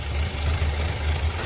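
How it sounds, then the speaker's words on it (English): A cold Chevrolet square body truck engine idles rough, a steady close low rumble with an uneven pulsing throb and no other sounds. "She's a little cold, so she is idling rough."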